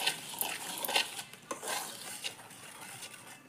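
Gram flour and rice flour batter with red chilli powder and black cumin being stirred in a bowl, a steady run of soft scraping, clinking strokes close by, with no talking.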